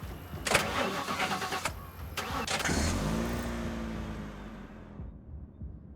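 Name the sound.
car engine starting in video game The Last Stand: Aftermath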